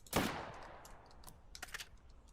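A single gunshot from the wild west survival game Western Rye, a sharp crack fading into a short tail, followed by faint clicks and rattles of handling, no talking.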